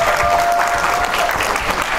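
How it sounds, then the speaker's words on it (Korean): Audience applause welcomes a speaker onto the stage at a Korean beauty-salon business seminar, steady and dense throughout, with faint voices under it. "여러분 정정훈 연사님께 뜨거운 박수 부탁드리겠습니다"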